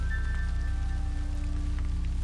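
Rainfall in the Japanese game Kirisame ga furu mori forms a steady soft patter behind looping low music, with no voices.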